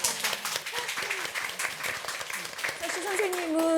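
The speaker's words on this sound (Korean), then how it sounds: "여러분 이럴 때 박수 한번 더" Audience applause at a Korean reading-campaign event honoring a first-time literary criticism award, dense clapping running under a speaking voice throughout, swelling slightly toward the end.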